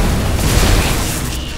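An explosion in the Magicka video game rumbles as a loud, dense, sustained boom that fades slightly toward the end, with no talking.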